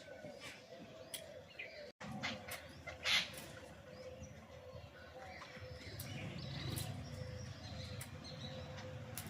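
Small birds that visit daily chirp faintly outdoors where a cow is fed, with a few short high calls over a low rustling, shuffling background.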